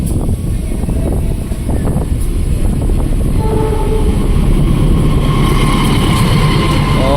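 Parahyangan passenger train from Gambir to Bandung passing Cikarang station close behind another train, a loud continuous rumble of wheels and cars on rail with steady clatter and a faint horn tone, no talking.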